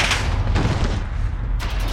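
Modern Warfare video game combat with heavy booming explosion and rattling gunfire, loud and close, thumps and cracks piling up continuously over two seconds without talk.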